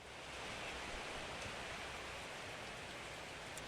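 Moderate to heavy typhoon rain falls steadily, a dense even hiss of rain on surfaces with no voices.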